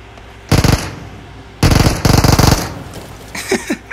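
Automatic weapon fire in the game PUBG on the Sanhok map erupts in loud, close rapid bursts, one short volley then two longer ones, followed by a few softer distant pops.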